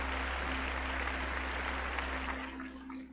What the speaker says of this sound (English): I'll give you a round of applause before we go.